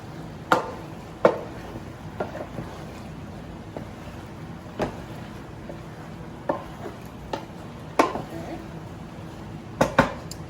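A spoon stirs browned sausage into a pot of jambalaya with soft, tender onions, producing sharp intermittent knocks and clanks against the pot over a low background hum, spaced irregularly across the stretch.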